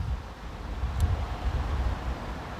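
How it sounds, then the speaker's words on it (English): Low rumbling wind blows against the microphone in Nuddock Wood, moderately loud and steady with slight swells, no one speaking. "Here comes the wind again"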